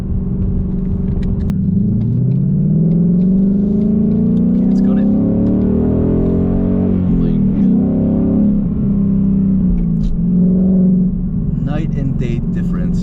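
A Ford Mustang GT V8 fitted with an X-pipe exhaust rumbles loud and close, its engine note rising and falling through several revs over about thirteen seconds, with a voice talking over it at points.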